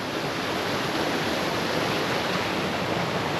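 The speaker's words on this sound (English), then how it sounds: "creek all the way down." A creek flows steadily on a foggy Mount Washington hike near Pinkham Notch, a dense, even rushing wash of water close by with no other sounds.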